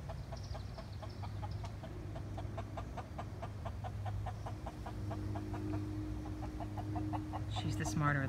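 Hens in a backyard flock cluck softly in a steady run of short repeated calls over a constant low hum, with a brief louder call near the end.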